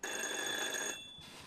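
A telephone at a police station rings once in a short, bright trilling burst that stops abruptly, heard fairly close with nothing else around it.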